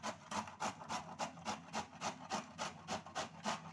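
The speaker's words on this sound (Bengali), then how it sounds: "এই মিডিয়ামটা দিয়ে আমি গ্রেট করে নেব এইভাবে নিয়ে ফুলকপিটা এভাবে ঘষে নিতে হয়" Cauliflower is rubbed back and forth over the medium side of a hand grater, giving a steady rhythmic rasping of about eight close, even strokes with no talking.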